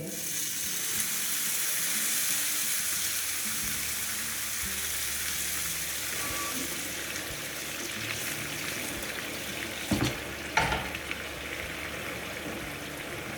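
Meat broth poured into a pot of chickpea stew, a steady hissing, bubbling wash with a few sharper splashes near the end, fairly close with no voices.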